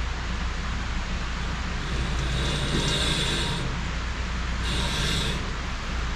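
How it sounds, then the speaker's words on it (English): A handheld blade scraper rubs rust off an outdoor sawmill blade: two harsh, hissy scraping strokes over steady background noise, close and moderately loud, with no talking. "That rubbing sound you hear is my blade scraper scraping off rust."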